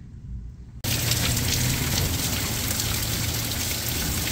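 Heavy rain pours outside, starting abruptly after a quieter moment and then continuing as a loud, steady, dense hiss of drops with no talk.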